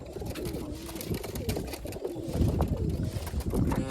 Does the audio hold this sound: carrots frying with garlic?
no